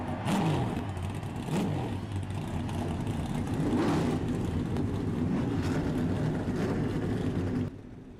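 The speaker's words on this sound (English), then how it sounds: "Start your engines." Race car engines rev and roar together at the start of an iRacing eNASCAR Coca-Cola Series race at Watkins Glen, a loud sustained drone with rising revs that cuts off sharply near the end.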